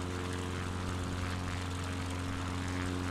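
Propeller plane engine in Microsoft Flight Simulator, a steady droning hum with strong low harmonic tones, continuous and loud throughout with no talking.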